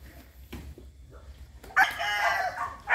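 A backyard broodcock rooster crows once, loud and close, after a quiet stretch with faint rustling and distant background noise.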